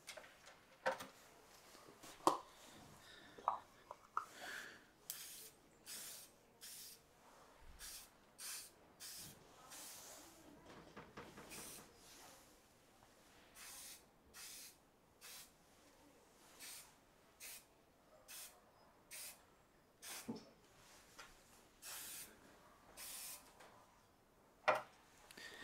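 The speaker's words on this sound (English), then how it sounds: "I'll apply it some coatings of spray varnish" Aerosol spray varnish is applied in coats to a humming transformer in a Sansui unit, heard as quiet, short hissing bursts repeated at a steady pace, with faint clicks between them.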